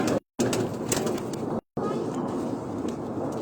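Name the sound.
pigeon cooing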